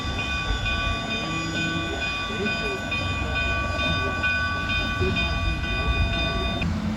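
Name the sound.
narrow gauge steam locomotive moving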